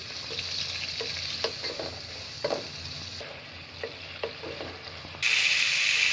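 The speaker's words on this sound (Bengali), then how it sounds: "মুরগিটা ভালোভাবে ভেজে নিচ্ছি।" Close, steady sizzle of chicken frying in ghee and butter with occasional scraping stir strokes, the hiss jumping louder and brighter for the final second.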